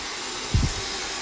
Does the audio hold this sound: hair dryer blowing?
yes